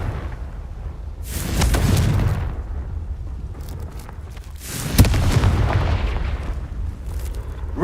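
Two booming fiery blasts from the Confringo spell in Hogwarts Legacy, each swelling into a loud, rumbling burst about three seconds apart, over a low steady game ambience.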